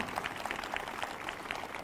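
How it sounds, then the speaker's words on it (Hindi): Congregation clapping at a Sunday evening church meeting, a faint, steady patter of hand claps in quick rhythmic bursts, heard from a distance. "तालियों के साथ धन्यवाद।"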